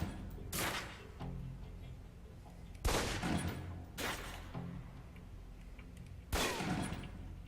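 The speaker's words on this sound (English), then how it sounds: "Equip the pistol, then aim down range and take some shots at the target." Four pistol shots fired at a target in the video game Alpha Protocol, sharp and loud, spaced a second or more apart over a low steady background hum.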